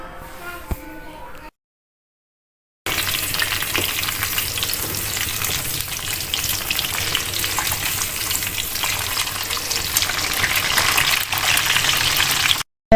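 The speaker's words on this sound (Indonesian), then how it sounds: "Selanjutnya kita goreng terongnya sampai matang." Eggplant frying in a home kitchen pan, a steady loud sizzle with bubbling oil that runs unbroken for about ten seconds after a brief quiet gap, with a little background noise at the start.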